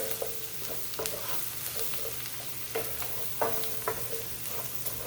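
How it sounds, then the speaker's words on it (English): Curry powder sautéing in a pan for a goat curry, a close, soft sizzle with light scraping strokes and a few sharper knocks against the pan, with no talk. "We're going to saute the curry powder for a bit to make it fragrant."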